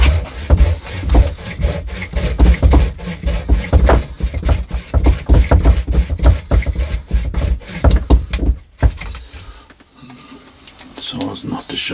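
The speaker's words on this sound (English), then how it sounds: "Saw's not the sharpest. Let's see if I can find a better saw." Hand saw cutting through a wet liquidambar bonsai trunk, steady rhythmic back-and-forth strokes close up and loud for about eight seconds, then a pause and quieter scraping; the saw is fairly dull.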